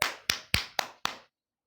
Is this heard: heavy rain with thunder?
no